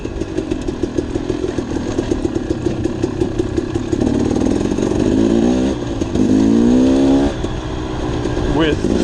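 A motorcycle on trials tires rides along with a continuous loud engine drone that rises and falls in revs. Someone talks over it throughout.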